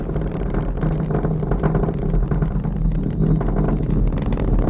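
Delta IV Heavy rocket with three engines firing in flight carrying the NROL-44 satellite, a loud, steady broadband roar with crackling texture, continuous and unbroken throughout.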